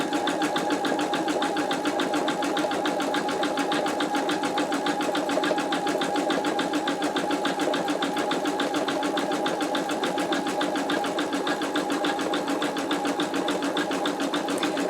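An embroidery machine stitches a zigzag while making an in-the-hoop wallet, running in a steady, dense, continuous mechanical whir with fast rhythmic needle strokes throughout, loud and close, with no voices.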